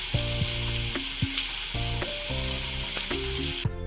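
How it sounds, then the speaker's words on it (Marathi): Onion, ginger, garlic and green chili sizzling as they are sautéed in a pan, a steady close frying hiss with scraping stirs of a spoon, plus faint background music throughout. "त्यावर ओलं खोबरं घालून सर्व मिश्रण आता चांगलं लालसर होईपर्यंत परतून घ्यायचं आहे"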